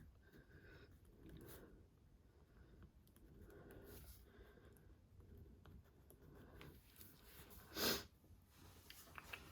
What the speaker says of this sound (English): so that's why I'm sniffling